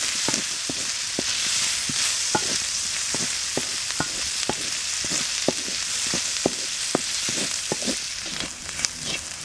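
Onions stir-fried in a pan over an outdoor bamboo-forest kitchen, a constant close sizzle punctuated by frequent sharp clacks of a spatula against the pan, with no voices.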